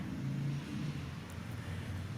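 A 1959 Chevrolet Bel Air with a 2-barrel carburetor drives along a street, its engine giving a steady, moderately loud low rumble with slight revving throughout.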